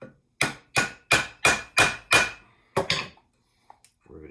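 Rivet set struck with a hammer to flatten a rivet, six sharp, evenly spaced loud blows followed by two lighter taps and a few faint knocks, close up with no talking.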